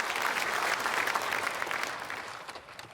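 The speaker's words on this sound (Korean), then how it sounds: "크게 박수로 환영하겠습니다." A church congregation at a Sunday worship service claps to welcome newcomers, a full, bright burst of applause that gradually thins and fades out.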